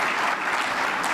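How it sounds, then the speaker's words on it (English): Conference audience at the ETHDubai 2022 blockchain event breaking into a short burst of applause, a dense even wash of many hands clapping at once, steady and moderately loud with no pause. "Yeah, round of applause, please."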